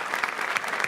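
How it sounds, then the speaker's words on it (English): Brief, warm applause from an audience welcoming a musician who composes songs about saving the planet, a dense patter of many hands heard only for a moment. "Please welcome with a warm applause"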